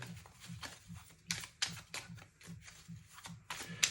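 Tarot cards are shuffled by hand in a series of soft, rhythmic riffling bursts, close and fairly quiet, over a low, steady background of music.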